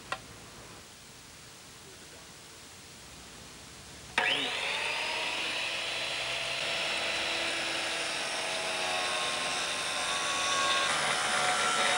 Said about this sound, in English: For our complicated corner piece, it's easier to cut the slab with a grinder.